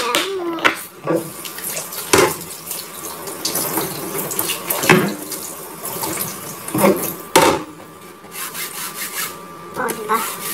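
Water running from a kitchen tap while a pineapple is cleaned, a continuous close splashing rush broken by rubbing and knocking handling sounds.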